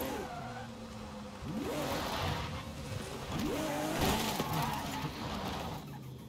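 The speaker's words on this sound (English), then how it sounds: "I heard that engine." A car engine in the racing game Forza Horizon 5 revs up and down through gear changes, with rising whines and some tire squeal, at moderate loudness with no talk over it.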